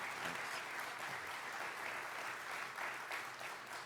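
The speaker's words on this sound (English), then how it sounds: "Can we give Dr. Shulkin a big round of applause?" Sustained audience applause at a veterans' convention seminar, a dense even wash of many hands clapping that holds steady throughout with no voices standing out.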